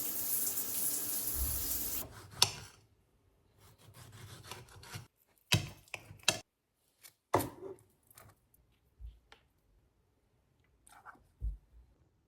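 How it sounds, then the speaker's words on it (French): A home shower runs in a loud hiss of falling water for about two seconds and then shuts off, followed by scattered quiet clunks, taps and rubbing in a still room. "Je vais prendre ma douche"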